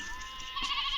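A sheep gives a short, nasal bleat, close and fairly clear, in a roadside film scene with livestock being herded.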